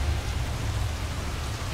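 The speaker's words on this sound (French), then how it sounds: "Mais comment la pluie arrive-t-elle si soudainement?" Dense, steady rain hisses continuously with a low rumbling undertone, loud and unbroken throughout.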